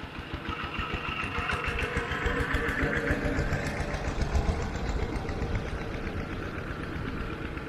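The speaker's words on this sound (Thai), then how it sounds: "รถไถนาเนาะกำลังขนอ้อยเนาะมาส่งโรงงานพี่น้อง" A farm tractor hauling a full load of sugarcane to a sugar factory in Laos chugs steadily nearby. The diesel engine runs with a loud, continuous, rapid rumble and no talk.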